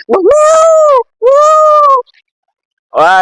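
A person mimics a cat's meow with three loud, stretched, whiny vocal calls separated by short pauses, recorded close up.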